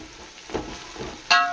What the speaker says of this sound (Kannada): ಸೊ ಇದನ್ನು ಎಣ್ಣೆಯಲ್ಲೇ ಫ್ರೈ ಮಾಡ್ಕೊಳ್ಳೋಣ, ಒಳ್ಳೆ ಕಲರ್ ಬರ್ತಿದೆ